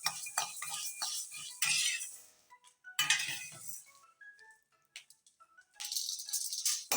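Dry horse gram rattles and skitters in a pan while it is being roasted, with bursts of grainy scraping and clinking as it is stirred, broken by short quiet pauses and a few faint tonal clinks.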